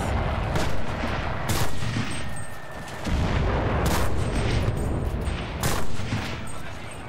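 Rapid bursts of gunfire in the World War II shooter Enlisted, loud and close, several clustered volleys with short gaps between them and no voices.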